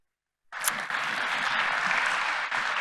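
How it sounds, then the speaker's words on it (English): Audience applause greeting panel speakers at a university health and biotechnology forum, bursting in suddenly after a brief silence and holding as a dense, even clatter of many hands. "Let's give them a round of applause"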